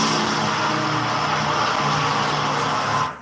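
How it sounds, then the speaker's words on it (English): Los Angeles street traffic: a continuous broadband roar of passing cars and engines, steady and fairly loud, with a brief rise of a revving motor, fading out at the end. "surrounded by the sound of LA traffic"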